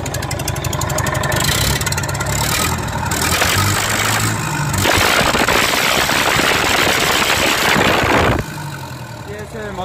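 A Perkins four-cylinder diesel on a heavy machine idles with a rough, knocking chug. It then revs up into a loud, dense roar for several seconds before dropping back to idle, and voices can be heard nearby.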